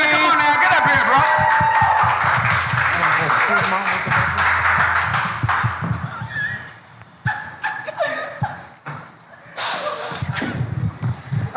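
An audience claps and cheers for a performer at an arts center music night, loud sustained applause with laughter and shouts, thinning into scattered claps under talk.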